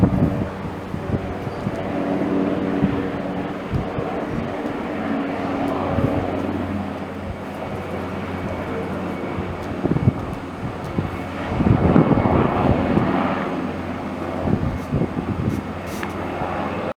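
Aircraft drone of helicopters passing overhead outdoors, a steady rumble that swells louder near the end, mixed with wind noise and no speech.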